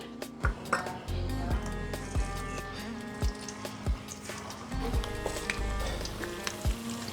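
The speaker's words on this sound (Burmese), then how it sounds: "အရင်ဆုံးဘူးသီးလေးတွေကြော်ပါမယ်" Gourd fritters deep-fry in hot oil with a continuous crackling sizzle, punctuated by regular metallic clinks of a utensil against the pan, close and fairly loud.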